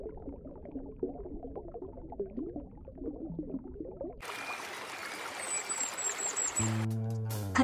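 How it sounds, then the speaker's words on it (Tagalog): Water of the Labi River in Bongabon, Nueva Ecija flows and trickles steadily, a continuous close stream that grows brighter and fuller partway through, with no talk. "Tapos marinig mo yung magandang tunog ng tubig."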